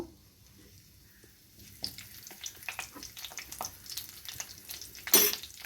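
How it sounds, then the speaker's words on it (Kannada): Mustard seeds and curry leaves sizzle in hot oil in a pan for a bitter gourd gojju, starting quiet and building into crackling pops and spits, with a sharp loud burst near the end. "ಸ್ವಲ್ಪ ಸಾಸಿವೆ ಹಾಕೋಣ ಸಾಸಿವೆ ಕರಿಬೇವಿನ ಸೊಪ್ಪು"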